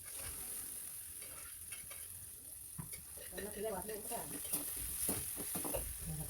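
Ground spinach masala fries on a low flame for palak rice, a steady soft sizzle with scraping stirs and a few clinks of a utensil against the pan, continuous throughout.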